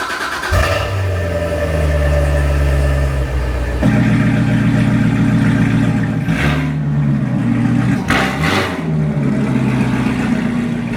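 A supercharged Corvette C7 Z06 V8 fires up on its first start, a loud deep rumble that settles into a steady, throaty idle, with a couple of brief revs blipping near the end.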